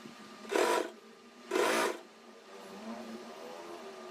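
A sewing machine stitches blouse fabric in two short, loud whirring bursts about a second apart, followed by a quieter handling noise. Nobody speaks.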